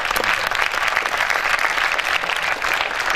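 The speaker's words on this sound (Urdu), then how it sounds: "اس ایوان میں جتنی بھی تالیاں بجی،" A crowd in an assembly hall applauds, dense continuous clapping filling the space evenly for about three seconds with no voices over it.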